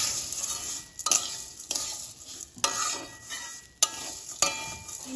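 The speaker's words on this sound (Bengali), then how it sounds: "চিনিটা ভালোভাবে এর সাথে মিশিয়ে নেব।" Fried vermicelli (semai) being stirred with sugar in a pan: scraping spoon strokes in an uneven rhythm, with occasional metallic knocks against the pan over a steady light sizzle, close and clear.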